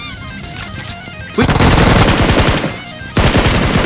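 Automatic gunfire in PUBG Mobile, two loud rapid bursts of shots close by separated by a short pause, with quieter game sounds beforehand and no talk.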